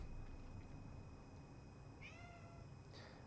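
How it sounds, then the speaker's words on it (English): A cat meows outdoors, two short rising calls near the end, faint and distant over a steady background hiss of rain. "do you guys hear the cat outside?"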